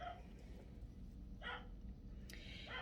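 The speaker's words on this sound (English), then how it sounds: "I apologize for my dogs outside." Dogs barking outdoors, a few short barks spread apart, moderately distant over a steady low background hum.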